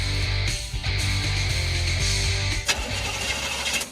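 A car engine cranks and struggles to start in a radio ad, a steady loud grinding starter whir that stutters and sputters near the end, close and alone with no talking.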